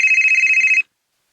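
Telephone ringing with an incoming call, a single loud trilling electronic ring burst lasting under a second, then silence.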